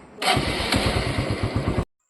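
A motorcycle engine starts up and runs with a steady, throbbing idle close by, then cuts off abruptly.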